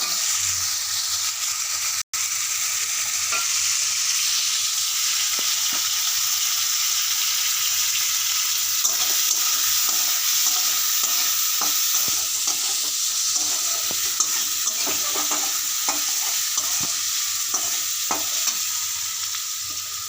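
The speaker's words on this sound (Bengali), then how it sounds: "আর একটুখানি লাল করে ভেজে নেব" Spices with turmeric frying in a pan, giving a loud, constant hiss of sizzling oil that runs throughout, with frequent small scraping and tapping stir sounds layered on top; no voices.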